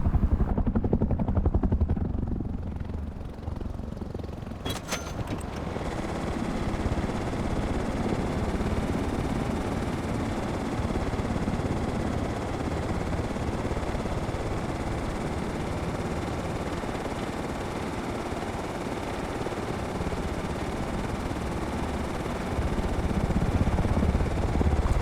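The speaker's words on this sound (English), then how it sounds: "the patrol heli did not leave. It circled back, and it came down." Patrol helicopter in the video game Rust, a steady loud rotor and engine drone that holds throughout, with a brief sharp burst near the start.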